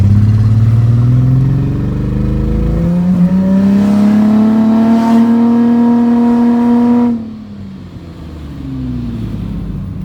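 Ford Freestyle with a custom exhaust revving hard, its engine note climbing steadily from a low rumble to a loud high wail before the throttle is released and it drops back to idle, close and clear.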